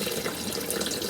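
Water drains through a quarter-inch external siphon pipe from a grow bed, a steady close rushing and gurgling stream with faint drip-like splashes throughout.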